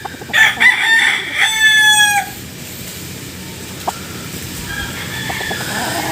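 A Brahma rooster crows loudly and close by, one long harmonic call lasting about two seconds, then the yard falls quiet apart from faint background clucks and rustling.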